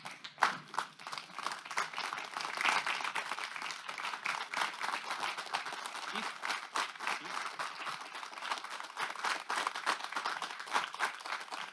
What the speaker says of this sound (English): Would you stand and give these men and women a rounding applause?